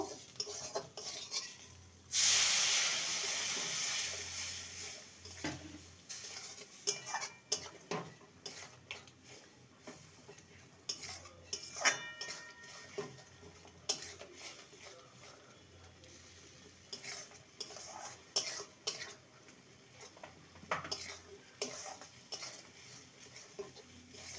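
A spoon stirring spinach curry with chopped coriander in a pan, with irregular clinks and scrapes against the metal over a soft sizzle, close and fairly quiet.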